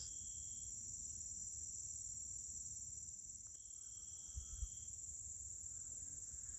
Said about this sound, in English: There's like a cricket out of nowhere.